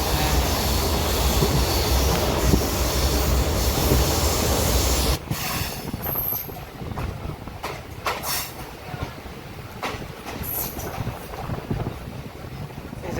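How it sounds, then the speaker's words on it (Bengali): A passenger train arrives at New Changrabandha station: loud rumbling wheel and carriage noise for about five seconds, then quieter clatter, hiss and brief high squeals as it slows. "আমাদের ট্রেন পৌঁছে গেল নিউ চাংড়াবান্ধায়"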